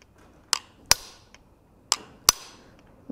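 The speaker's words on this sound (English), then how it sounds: "Hammering that fuller straight down." Four sharp metallic strikes of an 8-ounce hammer driving a 1/8-inch fuller straight down while forging a Gothic-style bottle opener, struck in two pairs with quiet ringing decay between, close and clear.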